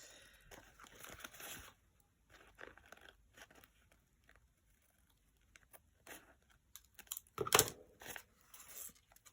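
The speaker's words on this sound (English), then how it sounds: "I'm just going to cut round the edges" Scissors snip around the edges of damp gelli-print collage paper made from packaging and book pages, giving quiet irregular crunchy cuts with soft paper rustling and one louder crisp snip near the end.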